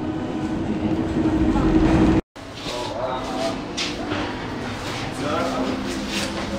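A Berlin U-Bahn subway train pulls into its terminus station at Uhlandstraße, a steady rolling rumble with a brief dropout, followed by a lighter rattling run and a voice speaking over it.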